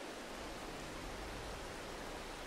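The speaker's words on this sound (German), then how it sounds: "Es regnet." Steady rain in the farming game Farming Simulator 22, a dense, even hiss of falling water that fills the whole stretch without letup, with no voices over it.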